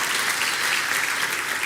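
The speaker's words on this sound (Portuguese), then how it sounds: "Vamos dar uma salva de palmas ao Senhor" A church congregation claps in dense, steady applause, a brief close burst of many hands with no voices over it.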